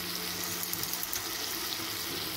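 Tap water running steadily into a cooking pot for rice in a home kitchen, a continuous close splashing and filling sound with no talk over it.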